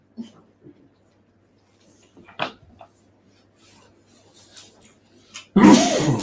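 A sudden sharp sneeze bursts out near the end after quiet room noise and faint shuffling.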